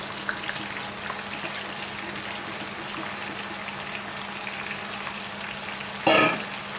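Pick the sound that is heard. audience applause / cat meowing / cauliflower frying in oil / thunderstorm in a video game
cauliflower frying in oil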